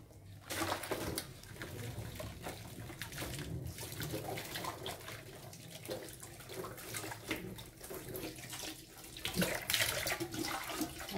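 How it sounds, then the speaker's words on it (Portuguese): Homemade soap made from ethanol, used cooking oil and liquid lye, rinsed under a running tap, a continuous close splashing water stream with faint birds in the background. "eu vou enxaguar"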